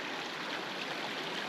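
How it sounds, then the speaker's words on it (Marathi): A mountain waterfall on the Satopanth trek in the Himalayas flows down the slope, heard as a steady, unbroken rushing of water, fairly soft and continuous with no voices. "धबधबा सुरू आहे."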